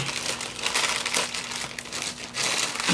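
Plastic mail bags being handled, with dense, continuous crinkling and rustling close up, moderately loud and unbroken, with no talk.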